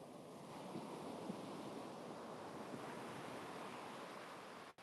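Ocean surf at Cocoa Beach, a steady broad wash of breaking waves mixed with wind buffeting the microphone, continuous and fairly loud, with no voices.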